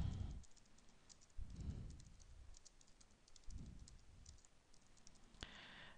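A computer keyboard is typed on in scattered bursts of light, faint clicks, with a brief sharper tap near the end and muffled low thumps in the background.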